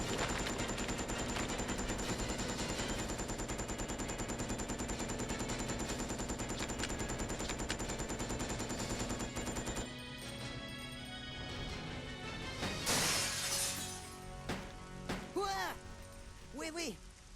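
Rapid, sustained gunfire from the survival horror game Resident Evil Code Veronica X rattles for about ten seconds, then gives way to a few sharper shots and impacts, with a voice talking over it.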